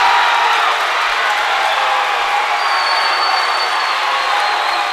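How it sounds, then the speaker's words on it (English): Basketball game crowd at a 2023 high school matchup, a steady broadband roar of cheering and applause filling the gym throughout, fairly loud and continuous with no clear individual claps standing out. "You can hear the crowd in the background."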